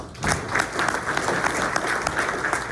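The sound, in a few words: audience applause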